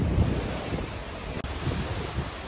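Ocean waves in the Gulf of Mexico, heard from the deck of a cruise ship: a continuous rushing wash of water mixed with heavy wind buffeting the microphone, steady and loud with no talking.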